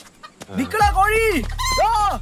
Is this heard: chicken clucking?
yes